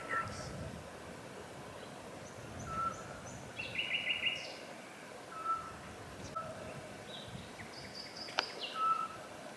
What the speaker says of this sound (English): And there is like a concert going on with the birds